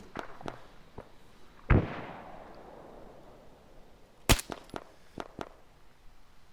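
Mk11 Mod 0 designated marksman rifle shots in ARMA 3, a couple of loud sharp cracks with a rolling echoed tail, followed by fainter distant pops and clicks scattered around them.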